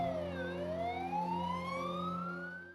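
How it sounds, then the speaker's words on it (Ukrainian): A fire engine siren wails at a funeral gathering for a former firefighter, a loud sweeping tone that dips and then rises steadily over a low engine drone, with no talking. "Увімкнена сирена пожежної машини стала символом поваги, скорботи та вдячності."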